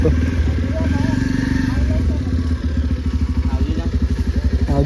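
A motorcycle engine idles and putters nearby on a farm in Gujarat during a millet harvest, in a rhythmic chug, growing more pulsing toward the end, with voices talking over it.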